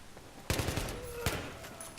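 L86 light machine gun fire in Battlefield 3, short sharp bursts of a few rapid shots, then another crack moments later, loud over game background noise.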